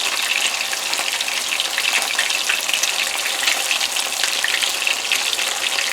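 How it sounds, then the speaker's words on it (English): Fish pieces deep-frying in hot oil for a Guyanese fried fish dish, a loud, dense, continuous crackling sizzle close by, steady throughout with no voices. "So these don't take very long to fry, my friends."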